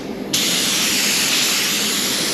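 A spray gun lays etch primer onto a Scania V8 770S truck, starting abruptly as a steady, loud, close hiss that runs unbroken to the end.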